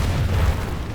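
A bomb dropped from an IL-2-37 aircraft in War Thunder detonates, a loud, sustained low rumbling blast that fills the whole moment with no talking.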